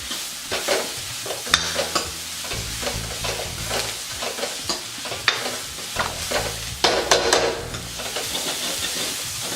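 Onions and spices for egg bhurji fry in a pan, giving a loud, close sizzle with repeated stirring scrapes and clinks and no talk.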